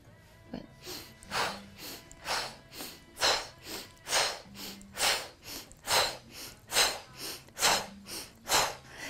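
Someone breathes in and out during a guided exercise, about a dozen rhythmic, close, airy breaths, each a soft inhale followed by a stronger exhale, with no talk.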